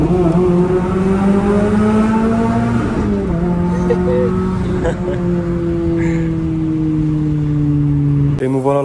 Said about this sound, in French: Écoutez, petit downshift.